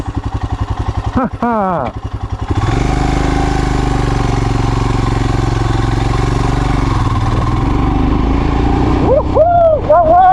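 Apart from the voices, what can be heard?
Royal Enfield Himalayan 411 motorcycle exhaust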